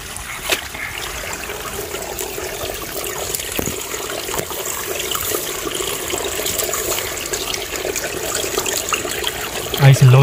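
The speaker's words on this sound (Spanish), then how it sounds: "Ahí se logra escuchar cómo viene el agua." Stream water trickling out from under rocks at a river's source in dense vegetation, a soft continuous gurgle and splash with a few sharper drips, fairly close.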